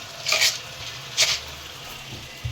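Whole cumin and spices frying in a pan, a soft steady sizzle beneath two brief, brighter bursts of crackle as the pan is stirred, close and moderately loud.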